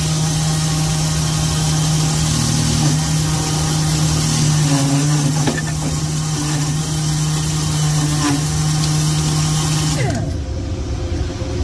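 A machine dresses a worn valve-seat ring on a 1950 Dodge 230 engine with a stone, giving a steady, loud motor whine with vibration that runs without a break for about ten seconds before winding down and stopping.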